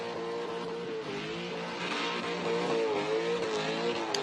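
A car does circle work burnouts at a Summernats car festival, engine droning steadily with a wavering pitch as the tyre lets go and skids, loud and sustained throughout with a constant crowd and arena roar behind.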